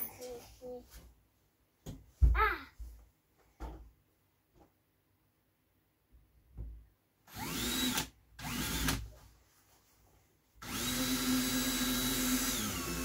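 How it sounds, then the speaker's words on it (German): A power drill whirs in several short bursts, then runs in a longer stretch, close by, with quiet pauses and brief talk between, drilling holes while building a Traxxas XRT 6X6 RC truck. "Willst du Löcher bohren? Ja. Der Bohrer ist auch noch drin."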